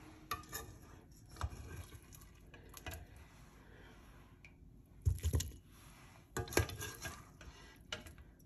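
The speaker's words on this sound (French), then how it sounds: "patates douces et carottes. Donc, je les écrase." Cooked sweet potatoes and carrots mashed in a large salad bowl, giving soft squishy scrapes and a few clinks of utensil against the bowl, close and intermittent.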